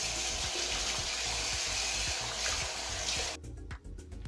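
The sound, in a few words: rinsing a sink drain with running water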